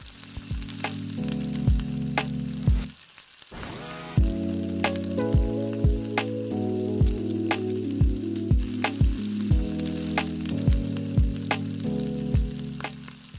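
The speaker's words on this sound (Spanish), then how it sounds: "Y voy a empezar a freír la cebolla hasta que se acitrone y voy a agregar el jitomate." Chopped onion and tomato sizzle steadily as they fry in an Instant Pot set to sauté. Sharp utensil scrapes and taps repeat through the clip, and the frying briefly drops away partway through before returning.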